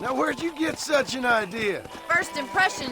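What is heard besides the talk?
None of the usual background noises is heard.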